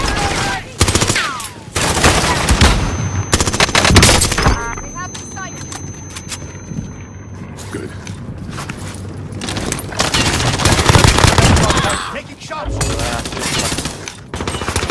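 Gunfire in the Call of Duty Warzone video game, set in Verdansk: dense bursts of automatic fire and sharp shots with booms, steady through the scene, with voiced game chatter over it.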